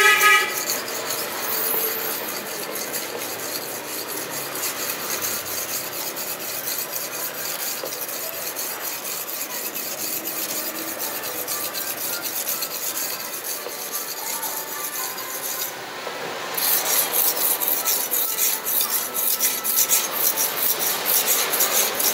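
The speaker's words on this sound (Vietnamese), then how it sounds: "Đấy, mài dao." A knife blade scrapes back and forth across a sharpening stone in a steady, continuous rasping rhythm that grows slightly louder toward the end.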